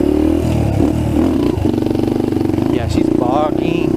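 A trail bike engine bogs and struggles while running: a loud, uneven, sputtering chug drones nearby, with clattering mechanical noise and someone talking over it.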